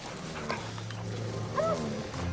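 A dog whimpers and lets out short yips and a bark outdoors, fairly close, over low background noise.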